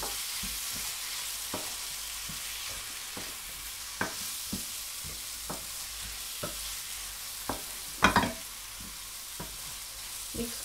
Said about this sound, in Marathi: मी त्याच्यामध्ये आता या कोळंबी टाकते